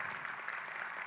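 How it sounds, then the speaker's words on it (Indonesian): Audience applause at a gathering, a brief, steady burst of many hands clapping together, even in loudness throughout, with no voices heard over it. "sekali lagi tepuk tangan buat kita semua"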